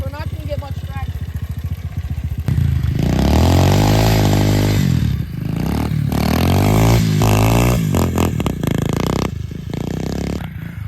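Pit bike at a snow-covered skatepark, its small engine revving hard in loud, close bursts as the wheel spins in snow, with a voice talking briefly before it.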